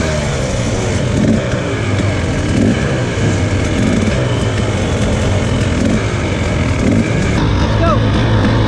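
Loud, steady engine roar of a dirt bike during a Grimpossible enduro qualifier, a continuous revving rumble close by with crowd noise and voices mixed in.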